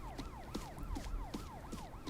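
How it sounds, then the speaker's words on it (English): Rising and falling siren wail from a video game trailer for The Day Before, repeating in steady sweeps about every 0.4 seconds over a dense background of rhythmic thumps and clatter, loud and continuous without speech. "before the person's able to loot more, you can hear the sirens"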